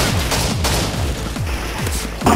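Rapid gunfire rattles through a team deathmatch game, with loud, dense bursts of shots and booming low thuds packed closely together.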